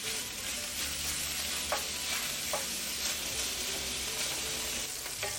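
Smoked beef sausage browns in a skillet with no added oil, giving a loud, dense, continuous sizzle with brief bursts as the pieces are tossed around.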